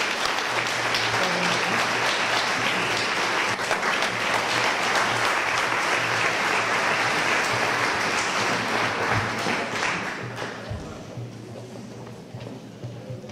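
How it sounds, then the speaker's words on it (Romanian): A large audience at a high school awards ceremony claps steadily and loudly for several seconds, then the applause thins out and fades near the end. "Aplauze și pentru..."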